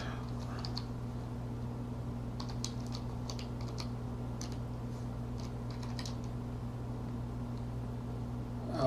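Quiet tapping of a password on a computer keyboard, short bursts of keystrokes with brief pauses between them, over a steady low electrical hum.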